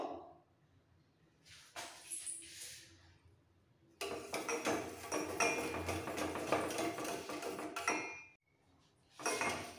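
Dried red chilli powder being stirred into curd in a bowl, with intermittent spoon clinks and a long stretch of busy scraping and tapping against the bowl, fairly close and with no talking.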